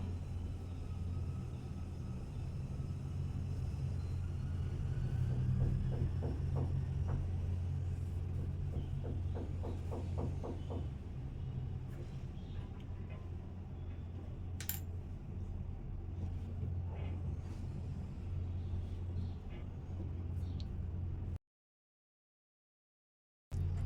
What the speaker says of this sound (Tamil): அடுத்தது இப்போ இந்த டாட் தைக்கிறேன்